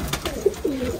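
A pigeon's soft, low coo sounds briefly, close by, against faint outdoor noise.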